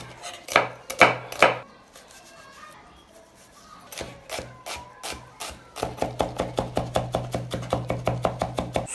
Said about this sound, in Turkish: 2 adet soğan da ince ince doğruyorum.